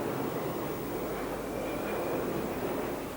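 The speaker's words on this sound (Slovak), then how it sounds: "Každých 5 minút preletí nízko nad strechami lietadlo." A low-flying airliner roaring over the rooftops of Kowloon Walled City on approach to Hong Kong's airport, a dense, steady broadband rumble that fills the scene throughout.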